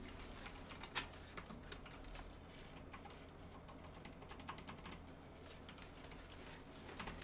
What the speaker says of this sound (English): God, I'm not typing well today.